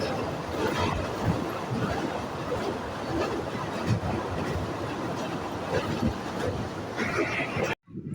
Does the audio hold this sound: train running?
yes